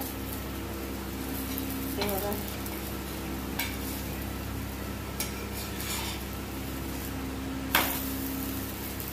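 A fasting snack fries in a pan over low gas with a steady, close sizzle, broken by a few sharp scrapes and clinks as pieces are flipped with a utensil, while someone speaks softly over it.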